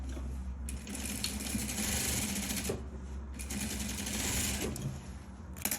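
A sewing machine stitches darts on a classic straight skirt, its needle chattering in steady runs with short stops between seams. The machine is close and clear, with no talking.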